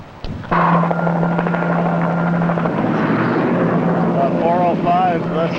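A rescue helicopter flies near a steep rock face during a mountain search and rescue, its loud, steady rotor and engine drone filling the whole clip while people talk over it.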